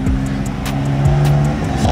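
Car engines idle and rev nearby in an underground car meet, a loud steady rumble with a rising tone as a vehicle pulls in.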